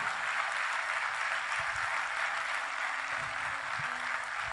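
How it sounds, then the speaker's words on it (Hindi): Dense, steady applause from a live audience at a Hindi film-music concert, greeting the rhythm section; the clapping fills the whole stretch at an even level with no talk over it. "ज़ोरदार तालियां आप सबकी।"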